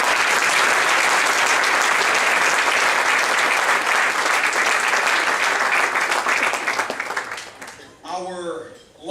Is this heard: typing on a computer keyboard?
no